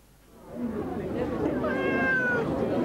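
Kittens meowing in repeated high, wavering cries over a broadcast background with faint talk, lasting through most of the stretch.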